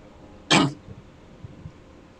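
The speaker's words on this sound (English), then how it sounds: "I had to clear my throat." A single short, harsh throat-clearing burst from a person playing Subnautica, close and loud, followed by faint low thumps in a quiet room.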